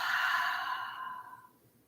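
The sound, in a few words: deep exhale through the mouth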